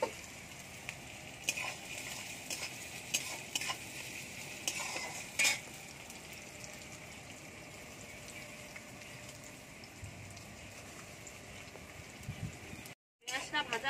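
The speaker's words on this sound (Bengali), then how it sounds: "পেঁয়াজটা ভালো করে ভেজে নেব।" Onions sizzle in a pan, a steady crackling fry with bursts of stirring and utensil clicks early on, then a quieter even hiss. Near the end a short silent gap cuts in.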